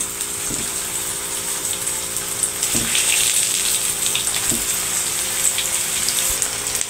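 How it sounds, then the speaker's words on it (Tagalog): Cooking oil pours steadily into a pan for potato cheese balls, a continuous gushing, hissing stream running throughout with faint low knocks underneath. "Na yung cooking oil. Lagay na natin to."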